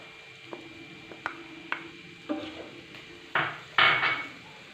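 A spoon scraping and knocking in a pan while spiced clam pickle is stirred with chili powder and asafoetida, a series of close metallic clinks and scrapes that grow louder and denser toward the end, with no voices.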